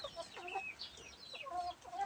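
A small native hen gives soft, quick clucks, faint and fairly close, in a short irregular series.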